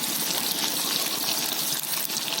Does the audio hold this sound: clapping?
no